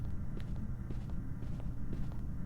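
Ghost footsteps in a ghost-hunting video game: soft, evenly spaced thuds over a low ambient rumble, fairly faint and steady across the stretch.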